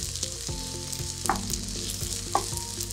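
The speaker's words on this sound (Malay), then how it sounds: "Kacau sikit-sikit telur agak separuh masak" Egg frying and being stirred in a hot pan for nasi goreng, a steady close sizzle with a few sharper scrapes and clinks of the utensil against the pan, no voices.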